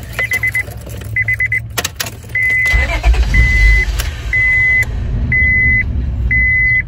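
A hot 1999 Honda Odyssey with a suspected fuel pump fault is cranked repeatedly without starting, several short starter whirs separated by pauses after some clicks and rattles, with a steady electronic tone sounding alongside each attempt, close and fairly loud.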